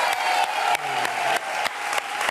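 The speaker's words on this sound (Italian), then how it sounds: "Te lo meriti tutto, goditelo tutto sto applauso" Applause from an interview audience for Nino D'Angelo, a steady dense clapping wash with a few sharper claps, close and loud throughout with faint voices beneath.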